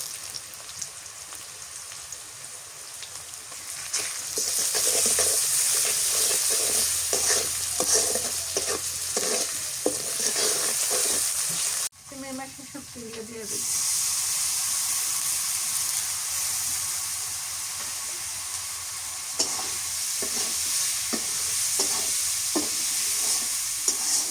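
Turmeric powder and garlic paste sautéed in a pan: a continuous loud sizzle with rapid repeated scraping of a spatula, a brief pause near the middle, then more steady frying and stirring, close up with no voices.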